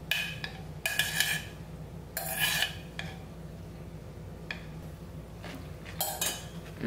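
Cucumbers being mixed with sweet chili sauce in a bowl, with intermittent scraping and clinking strokes of a utensil against the dish in irregular bursts, close and moderately loud, with quieter wet stirring between.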